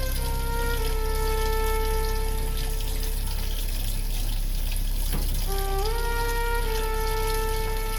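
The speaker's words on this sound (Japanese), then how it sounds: "水洗いしてゴミや汚れを落とします。" Steady running tap water rinses a batch of shiso leaves in a kitchen sink, a continuous close wash with faint tonal hum behind it and a brief knock midway, no talking.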